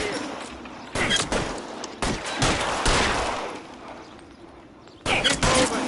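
Bursts of gunfire crackle in L.A. Noire, a 1940s Los Angeles crime game, as sustained rapid shooting in several loud volleys with short gaps between them.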